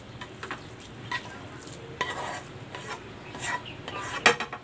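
Cooked glutinous rice in coconut milk scraped and moved from one pan to another, with utensil clanks and scrapes against the metal pan and a faint sizzle underneath, close by, ending in a sharper clink.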